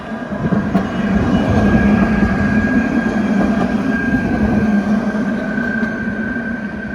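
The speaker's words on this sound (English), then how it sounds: "Oh, roads full of trams." Trams on the roads of Brest, Brittany, heard as a loud continuous low rumble and rolling hum with a faint steady tone, close and sustained without talk.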